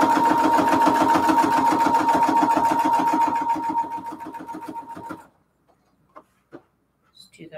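A sewing machine backstitches a quarter-inch seam on a cathedral window quilt pillow case, running in a fast, rhythmic whir for about five seconds before stopping, followed by a few faint clicks.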